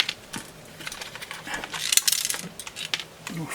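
Small screws drop out of the casing of an FNIRSI DWS-200 soldering station power supply, making scattered metallic clinks and rattles with a burst of jangling midway, close by.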